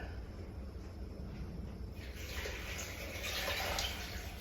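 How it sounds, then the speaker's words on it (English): Water poured steadily for a Caribbean mango lemonade, about eight cups, a continuous close pouring rush that swells louder in the second half. "And in this one, I'm gonna add about 8 cups of water."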